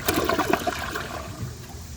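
A 2022 RI Mansfield Summit toilet with a 10-inch rough-in flushes once, a close rushing gurgle of water draining away and tapering into a trickle.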